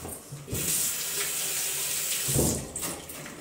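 Running tap water splashes steadily into a sink as hands are washed, a continuous close rush with small surges in the splashing and no talk.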